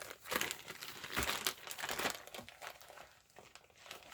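Plastic bags crinkle and rustle as they are handled up close, a steady papery crackle with brighter bursts of crumpling throughout.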